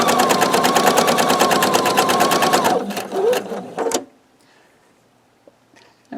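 A sewing machine stitches log cabin quilt strips with a 1/4 inch seam, a loud, rapid needle rattle for nearly three seconds, then slower bursts and a pause before near-silence, with faint handling at the end.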